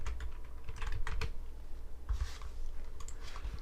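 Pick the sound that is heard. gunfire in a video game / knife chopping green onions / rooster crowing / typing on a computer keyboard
typing on a computer keyboard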